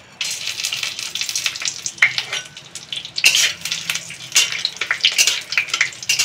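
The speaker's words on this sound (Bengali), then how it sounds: "ঘিতে আমি দিয়ে দেবো দুটো তেজপাতা আর দিয়ে দেবো এই গোটা গরম মশলাগুলো।" Bay leaves and whole garam masala sizzle and crackle in hot ghee, a continuous close frying hiss with occasional stirring clinks, no voice present.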